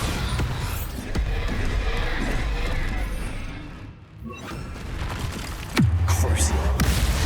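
In the Hogwarts Legacy video game, a Bombarda spell explodes with a heavy booming thud amid a busy din of combat effects, then a second deep impact rumbles near the end.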